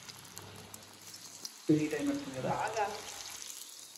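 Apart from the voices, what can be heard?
chicken popcorn frying in hot oil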